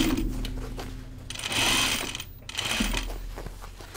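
Sewing machine stitching a denim jacket along the seam line, with short runs of mechanical whirring and ticking in two bursts separated by a brief pause, close and moderately loud.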